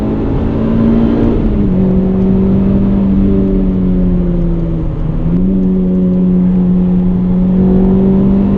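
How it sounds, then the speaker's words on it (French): Renault Clio 3 RS engine drones steadily from inside the car while accelerating, its pitch rising, dipping at gear changes and climbing again through repeated pulls. "Ah, le rupteur, il vient vite, hein. Ça prend vite des tours."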